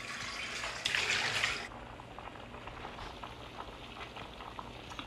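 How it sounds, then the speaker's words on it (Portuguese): Water is poured into a cooking pot that already holds food, making a brief loud rushing splash that then fades into softer bubbling and sizzling. The sound is close, with no talking. "eu vou punhar a água agora até cobrir ele"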